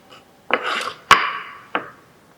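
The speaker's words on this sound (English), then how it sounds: "you have to cut along the line by using a chisel" A chisel cutting wood along a marked line in a carpentry workshop, heard as three sharp, close strikes, each followed by a brief scraping, rasping tail.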